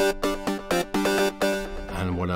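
A synth sequencer pattern with distortion switched on plays a bright, buzzy run of rhythmic stepped notes at varying lengths, loud and close, sliding into a wavering sustained tone at the end.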